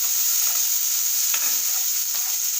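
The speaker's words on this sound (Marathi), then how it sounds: "आता हे टमाटा छान वाफेपर्यंत परतून घ्यायचं आहे" Finely chopped tomato sautés in a hot pan, a close, constant sizzle punctuated by a few soft scrapes of stirring, with no voices.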